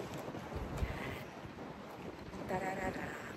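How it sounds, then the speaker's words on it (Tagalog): Strong gusts buffet the microphone at a seaside cove, a steady roaring rush of wind with brief louder bursts throughout. "Uy, lakas ng hangin"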